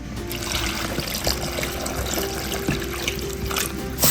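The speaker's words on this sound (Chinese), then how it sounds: "料汁已经晾冷了，倒进来" Cooled marinade for pickled cucumbers, seasoned with chili and garlic slices, is poured into a container in a steady close trickle and splash for about four seconds, with no speech.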